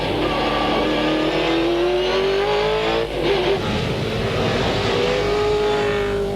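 V8 Supercars race cars stream past at the 2001 Australian Grand Prix, loud continuous engine howls with rising and falling pitch as several cars pass near one after another.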